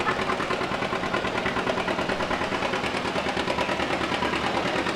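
A 1952 John Deere antique tractor engine runs steadily at an antique tractor pull, its loud, even putter close and continuous with no talk over it.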